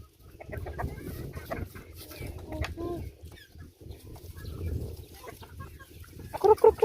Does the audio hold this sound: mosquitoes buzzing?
no